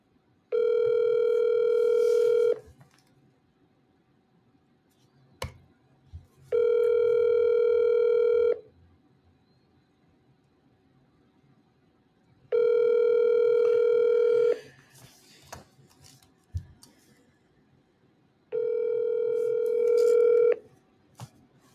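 A telephone ringback tone repeats four times, with each steady electronic burst lasting about two seconds and separated by long pauses. Faint handling noises fill the gaps.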